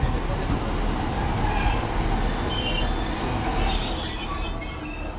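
Train 15265 at a Cornwall station, bound for Falmouth Docks, rolls along the platform with high steady wheel squeal over a low rumble of rail noise, growing louder toward the end.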